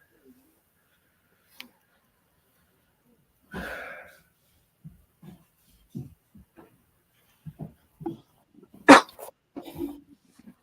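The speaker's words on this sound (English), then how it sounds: "That was a cough, but thanks." A single sharp cough from a man during a football preview discussion, loud and brief near the end, among quiet scattered speech and faint noises.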